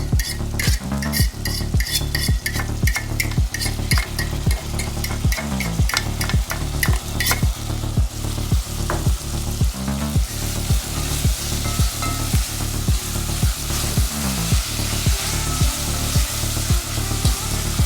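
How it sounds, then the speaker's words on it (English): Saltfish sizzles and fries loudly in a pot for Jamaican dumplings and dasheen, with a steady sizzle broken by regular rhythmic clanks of stirring against the pot, close up and alone. "I'm dropping the saltfish and now in the pot"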